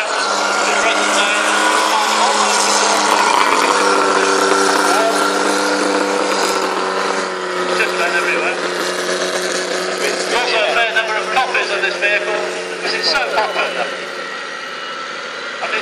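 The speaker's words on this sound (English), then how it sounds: "leading round the arena at the moment are two Humvees" Two Humvee military vehicles circle an arena, their engines a steady mid-pitched rumble with idling tones throughout, heard under an announcer's continuous commentary over a loudspeaker.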